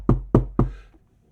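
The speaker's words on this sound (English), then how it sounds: "comes through the door, knocks on the door" Three firm knocks on a door of a workplace first aid treatment room, evenly spaced and close, each a sharp thud with a short decay, followed by quiet.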